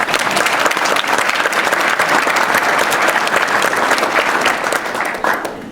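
Audience at a scouting council recognition dinner applauding award recipients, a steady dense round of clapping that fills the room for several seconds and tapers slightly at the end.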